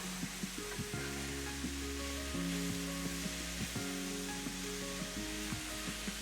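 Half a cup of raisins with extra oil frying in a pan, giving a steady, dense sizzle, with faint scraping and tonal clinks from stirring scattered through it.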